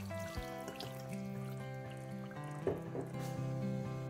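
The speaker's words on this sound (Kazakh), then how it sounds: "Аздаған су құямыз." Quiet trickling and splashing of water being poured into a pot of stewing lamb and potatoes, faint beneath sustained tonal background sounds.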